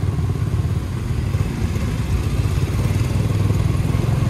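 Steady motorcycle engine droning close by throughout while riding slowly in heavy holiday traffic near the Padang–Sicincin toll road, with no talk over it.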